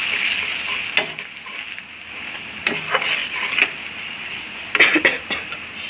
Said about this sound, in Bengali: আগে একটু নেড়ে দিচ্ছি